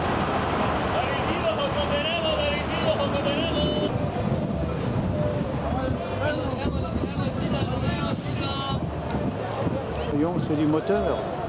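Old decorated buses, converted former US school buses, rumble at a Guatemalan bus station, diesel engines idling and revving up close amid street traffic, with people talking over the steady mechanical drone.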